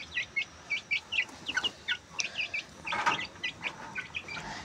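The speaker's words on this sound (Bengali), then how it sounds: "মুরগিগুলো চলে আসছে," Farm chickens come out of their coop clucking in quick bursts, a busy run of short repeated calls close by, with louder overlapping clucking near the middle and no speech.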